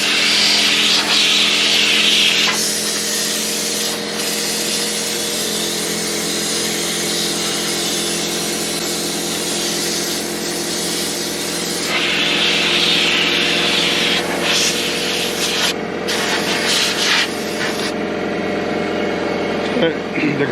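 Compressed air blasting dust out of the condenser and screen on a Mahindra mPower 85P tractor, a loud, steady hissing roar that surges and drops in bursts, close up with a voice speaking briefly.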